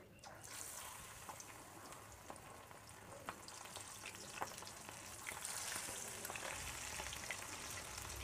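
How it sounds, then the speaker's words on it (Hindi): Cornflour-coated small fish frying in hot oil, a continuous crackling sizzle with scattered pops that grows fuller toward the end, fairly quiet and without voices. "तो अब हम फ़िश को इसमें डालते हैं"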